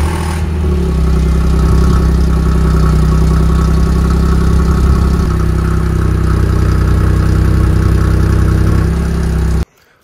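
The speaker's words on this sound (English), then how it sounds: "give you a little cold start real quick" An Audi S4 engine cold starts, catching quickly and settling into a loud, steady, close-up idle that runs for several seconds before cutting off abruptly.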